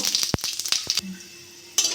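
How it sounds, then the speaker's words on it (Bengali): Panch phoron spices drop into hot mustard oil, crackling and popping in quick bursts close by, then a brief quieter hiss before the crackle returns. "তেলটা গরম হয়ে গেছে আমি একটু পাঁচফোড়ন দিয়ে দেবো"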